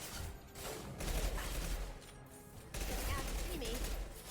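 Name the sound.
shotgun firing in Mass Effect video game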